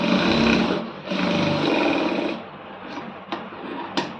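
A sewing machine stitches together two garment sleeves in two short continuous runs, followed by a few sharp clicks and handling noises, close up and without talk.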